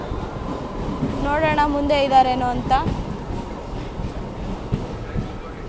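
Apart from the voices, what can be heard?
SSS Hubballi MEMU Express train arriving at platform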